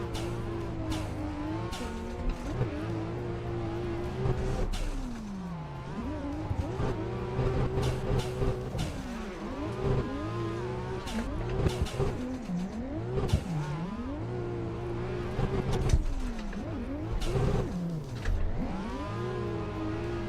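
A turbocharged 2JZ engine in a racing video game drones continuously for the whole stretch, pitch rising and falling through repeated revving and shifts, with intermittent tire squeal and skidding, loud and steady with no talking.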